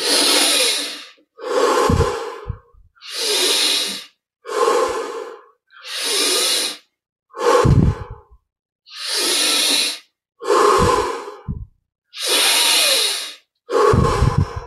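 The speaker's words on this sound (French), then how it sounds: "Augmentons déjà l'amplitude de la respire." Deep yogic breathing exercise: ten forceful, even breaths through the nose, each lasting about a second with brief pauses between, loud and close with no talking.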